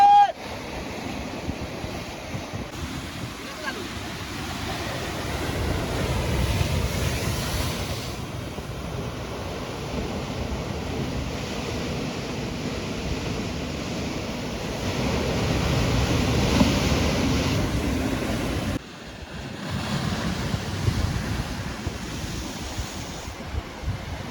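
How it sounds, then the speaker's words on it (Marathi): Ocean waves rolling onto a Konkan beach in India, a steady broad wash of surf with wind buffeting the microphone, continuous and fairly loud with swells rising and falling, with no voices. "समोर समुद्र किनारा, लाटा येत आहेत एकदम मस्त"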